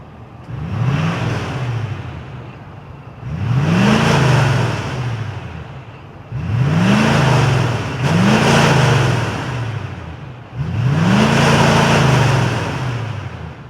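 High-output 6.7-liter Power Stroke diesel V8 in a 2026 Ford F-250 King Ranch revving, five loud rising-and-falling throttle blips over a deep idle rumble, close and with no talking.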